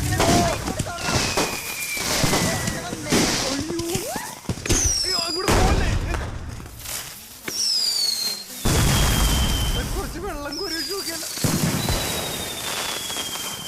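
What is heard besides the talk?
firecrackers exploding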